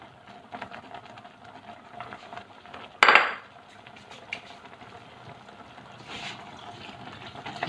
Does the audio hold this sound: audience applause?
no